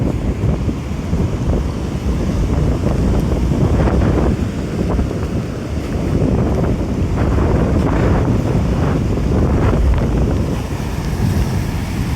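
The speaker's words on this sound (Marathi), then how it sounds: "पाण्याची लाट कुठपर्यंत गेली आहे बघा" Sea waves surge and wash in a continuous roar on a Konkan beach during the monsoon, swelling and easing in rhythm, with heavy wind buffeting the microphone.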